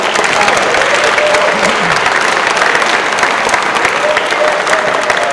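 Loud, sustained audience applause for a school orchestra at an elementary spring concert, thick continuous clapping from a large crowd throughout.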